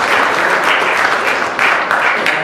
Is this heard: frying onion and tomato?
no